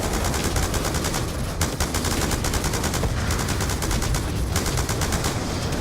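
Gunfire in the video game Call of Duty Black Ops 2: loud, dense automatic bursts rattle continuously with almost no gaps, the sharp shots packed tightly over a constant background of combat noise.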